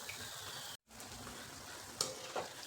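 Donuts deep-frying in hot oil, a soft continuous sizzle, briefly cut to silence near the start and then resuming, with a couple of sharper bubbling pops later.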